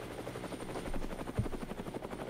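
A helicopter's steady rotor chop pulses rhythmically, close and fairly loud, with one brief heavier thump midway and no talk over it.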